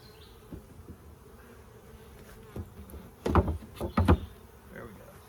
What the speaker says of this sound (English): help the bees identify which hive is theirs and not try to go to another hive